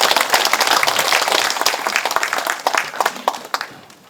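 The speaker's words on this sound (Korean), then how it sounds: "박수로 환영해 주십시오" An audience applauds steadily, a dense patter of many hands clapping that gradually thins out toward the end.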